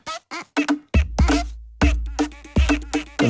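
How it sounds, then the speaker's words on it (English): A creaking leaf one-shot from a nature percussion library plays as short, nasal, squeaky creaks, some paired with low thumps, repeating in a choppy, close, dry pattern. "Creaking leaf."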